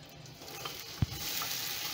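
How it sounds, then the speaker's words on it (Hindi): Chopped onions fry in hot oil in a karahi, giving a soft steady sizzle throughout with one brief knock of a utensil midway. "ये देखिए, मैंने ऑयल डाल दिया, ऑयल गर्म हो गया। अब मैं प्याज चॉप की भी डाल दूँ।"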